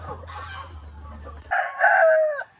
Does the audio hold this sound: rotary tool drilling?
no